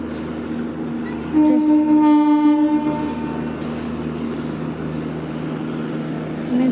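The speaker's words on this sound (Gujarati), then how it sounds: "જો હજી આવી રહી ને ત્યાં ટ્રેન આવી ગઈ." A train passes near a village level crossing close to a highway. A long, loud horn blast sounds over a heavy, steady rail rumble that continues after the horn fades.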